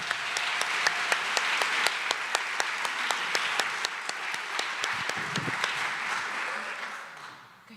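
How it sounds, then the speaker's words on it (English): An awards ceremony audience applauds a woman in red, a dense, steady wash of clapping with sharp periodic claps standing out, fading near the end. "Lady in red, another round of applause."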